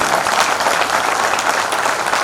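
Dense audience applause fills a hall at the O.N.E. India Award 2023 ceremony in Mumbai, a steady, loud wash of many hands clapping for the whole stretch with no pauses.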